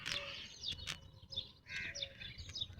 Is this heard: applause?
no